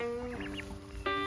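Young turkeys on a farm give a short burst of high, tonal peeping and chirping calls, close and fairly quiet, with no talking.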